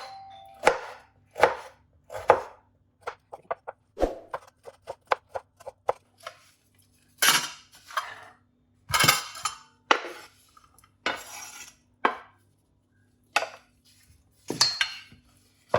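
Tomatoes are being chopped on a board with a knife. Sharp, close taps come in quick irregular bursts with pauses between them, and there is no talk.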